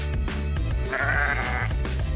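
Sheep bleat in a wavering, drawn-out cry over a steady backing of music, one loud bleat standing clearly out in the middle, close and prominent.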